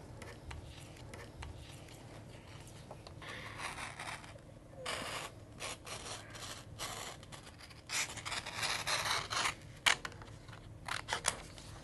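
Intermittent snipping and rustling of scissors cutting out a paper dye-sublimation image, close by and fairly quiet, with bursts of brighter cutting noise toward the end.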